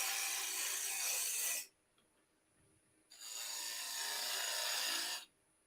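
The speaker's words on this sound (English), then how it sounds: "So I need to cut the handle free of the tenon." Two long rasping cutting strokes on a woodturned basket handle as it is cut free of its tenon, each about two seconds with a pause between, close and fairly loud with no talking.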